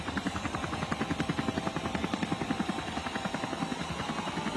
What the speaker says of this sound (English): We're getting some beautiful images here from our helicopter, our Israel helicopter